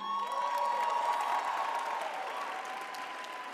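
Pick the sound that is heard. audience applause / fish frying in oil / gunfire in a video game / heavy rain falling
audience applause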